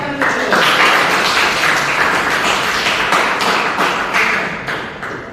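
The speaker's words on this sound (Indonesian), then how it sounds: "Oke, tepuk tangan dulu." A class of students applauds together at the end of a lesson, a loud, dense burst of clapping that holds steady and then tapers off slightly toward the end.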